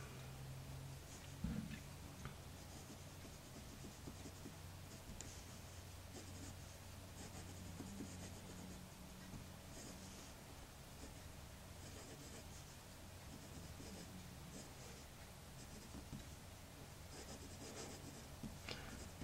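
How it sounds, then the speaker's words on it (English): A Brunnen Colourcode fountain pen is drawn across paper in a soft, continuous scratchy rub, faint and close, under a steady background hiss with no talk. "So let's do some writing."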